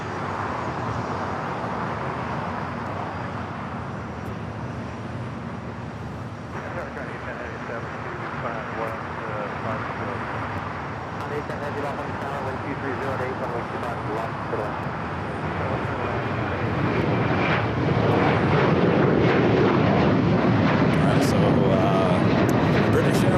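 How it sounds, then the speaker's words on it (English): Challenger 601-3A business jet at LAX, a sustained jet engine whine and rumble that builds louder toward the end, with a voice talking over it. "This is a Challenger 601"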